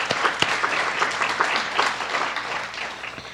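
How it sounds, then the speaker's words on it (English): An audience at a college State of the College event applauds, a steady wash of many hands clapping throughout, moderately loud and without speech. "Let's give them a round of applause."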